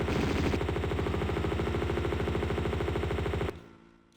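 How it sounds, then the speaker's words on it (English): Machine guns mounted on a snowmobile fire in the snowy Tibetan foothills of the Tomb Raider video game, a rapid, loud, evenly spaced burst of shots that stops abruptly, leaving a brief fading echo. "there's going to be another guy with a snowmobile that has machine guns attached to it"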